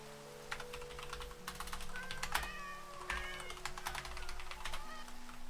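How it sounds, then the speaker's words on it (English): Several short Minecraft cat meows chime in over steady game music and light clicking, fairly close and moderately loud. "They meow a lot!"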